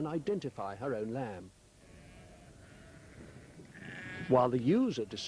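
Sheep bleat in quavering calls, two close loud bursts at the start and another toward the end, with a quieter stretch of background noise between them.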